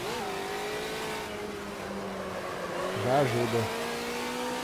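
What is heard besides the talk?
race car braking and accelerating in Automobilista 2 video game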